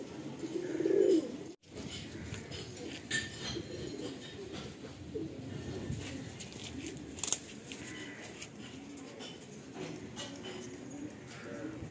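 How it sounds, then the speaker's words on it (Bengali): Madrasi pigeons coo softly in a loft, making low murmuring calls over a steady background hum, with a brief louder coo near the start and occasional faint chirps. "তো ওই পায়রাটা এবার আমি তোমাকে দেখে দিই"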